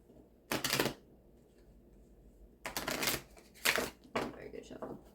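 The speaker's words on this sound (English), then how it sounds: "Very good shuffle." A deck of cards is shuffled in several quick riffling bursts, crisp fluttering rips separated by short quiet pauses, close and clear.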